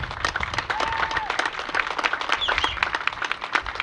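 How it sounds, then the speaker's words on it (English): Crowd applause at a pool party for a young diver on stage, lively close clapping with a few scattered cheers and voices mixed in. "Can everyone give Mary Beth Dunnichay a round of applause?"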